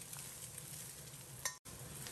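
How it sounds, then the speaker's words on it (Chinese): Eggs frying in oil in a wok until golden on both sides, a steady close sizzle and crackle that runs throughout, with a short scrape and a brief gap near the end. "把鸡蛋煎至两面金黄"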